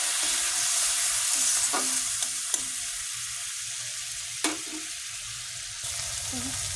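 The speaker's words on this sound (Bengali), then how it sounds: "সামান্য জল দিয়ে দিব এটা একটু কষাবো" Spices sautéed with a little water in a pan, a steady soft sizzle with a few sharp spatula knocks and scrapes against the metal.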